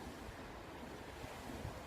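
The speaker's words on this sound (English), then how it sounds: "It's very windy as well, that's not a good thing." Wind blows hard outdoors, a steady low rumble and rush buffeting the microphone, with no voices.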